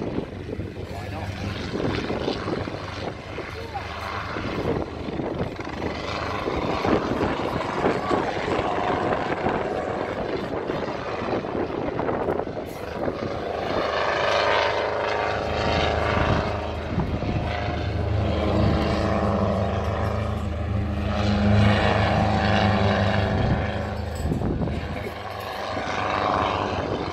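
A helicopter performing at the Old Buckenham Airshow 2017, its engine and rotor giving a sustained, fairly loud drone that swells and shifts as it manoeuvres over the grass, with a commentator talking over it.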